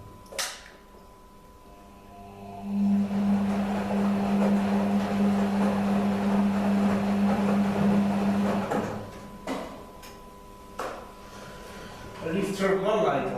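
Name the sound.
Beko washing machine rinsing with suds lock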